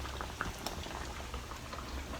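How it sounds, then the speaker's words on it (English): Fish bubbles as it fries in a pan of hot oil, a continuous busy crackle and sizzle with scattered pops, steady and fairly close. "we're going to have our fish bubbling away"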